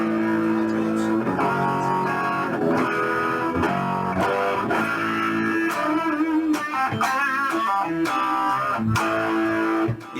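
Electric guitar played through a distortion pedal on the bridge single-coil pickup, a gritty crunchy tone with sustained chords and riffs ringing continuously and loud throughout.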